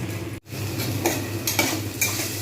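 Taro pieces fry in a pan with a steady low sizzle, broken by a few sharp scraping clatters of a utensil stirring against the pan at roughly half-second intervals, close and fairly quiet with no talk.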